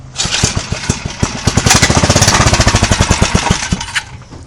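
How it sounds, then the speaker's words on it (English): A small yerfdog go-kart engine fires up and runs loud and close with a rapid, rough pulsing chug, the rhythm steadying over a few seconds of running. "Let's see if it'll start now."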